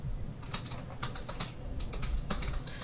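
Close, steady typing on a computer keyboard, with irregular clicks of individual keys at a moderate pace over a low background hum and no talking.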